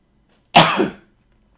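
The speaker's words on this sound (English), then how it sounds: "just had to clear my throat" A man clears his throat once, close to the microphone: a single short, rough burst lasting about half a second, surrounded by silence.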